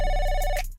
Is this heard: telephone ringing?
yes